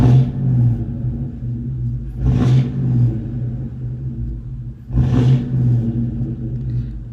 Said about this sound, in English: let's give it a couple revs and see what happens.